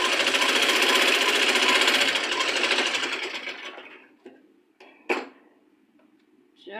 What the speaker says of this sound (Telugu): పాదం గ్యాప్తో స్టిచ్ అనేది వేసుకోవాలి.